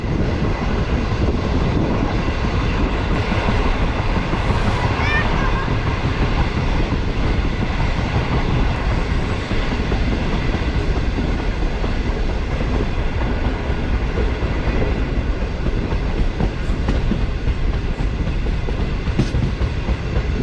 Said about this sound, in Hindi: तो इस वक्त जो है ट्रेन एक अच्छी खासी चढ़ाई चल रही है